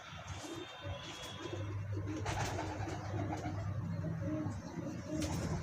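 A pigeon coos softly in low, repeated murmurs, with faint outdoor ambience and scattered light rustles around it.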